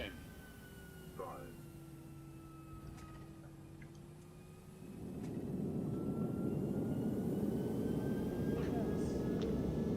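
A ToLiSs A321 airliner touches down in X-Plane 11. The steady engine whine is joined midway by a loud, broad roar of rollout and braking that continues to the end, with faint voices in the background.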